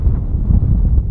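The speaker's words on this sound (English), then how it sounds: "It's super windy." Strong gale-force wind buffets the microphone outdoors, a loud continuous low rumbling roar with no pause.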